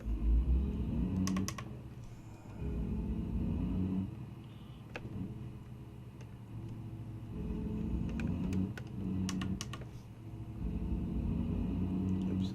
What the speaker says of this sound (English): It's got the pedal shifters, and they're a bit noisy. You can probably hear it clicking.